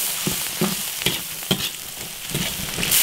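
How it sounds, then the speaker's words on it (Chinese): Scallion, ginger, Sichuan pepper, dried chilies and chili paste stir-fried with pork intestines in a wok, a steady loud sizzle with rhythmic scraping stir strokes about every half second. "继续把它炒香"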